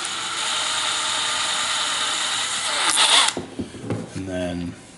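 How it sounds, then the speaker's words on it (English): A power drill whirs steadily, spinning a turnbuckle on a TLR 22 5.0 RC car, a loud continuous whine that cuts off abruptly partway through, followed by a few short clicks and rattles. "So I'll take my drill and I'll stick it in,"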